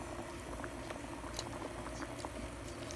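An oden hot pot seasoned with kimchi base bubbles on the boil, a soft continuous simmering patter with small pops, close and fairly quiet, with no talking.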